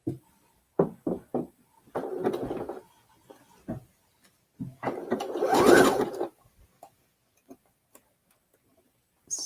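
A sewing machine runs zigzag stitches attaching lace to jersey fabric, heard in short separate bursts of mechanical whirring and ticking with pauses in between, close and fairly loud, with one longer run near the middle.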